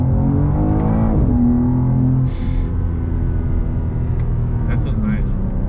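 A 2024 BMW M240i accelerating in normal mode, its engine note climbing loudly with rising revs and then a gear change, heard from inside the cabin beneath a driver talking.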